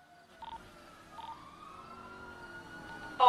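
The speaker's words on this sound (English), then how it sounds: "Yeah, I hear a bunch of sirens." Ambulance and police sirens in a GTA roleplay game, with wailing tones rising and sweeping over a quiet background, two short electronic beeps early on, and a loud burst near the end.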